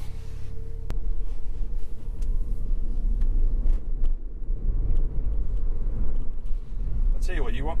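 A Toyota Yaris Hybrid drives along with steady low road and engine rumble throughout, a sharp knock near the start and a brief higher whine toward the end.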